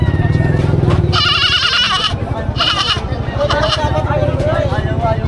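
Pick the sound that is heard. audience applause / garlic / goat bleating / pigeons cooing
goat bleating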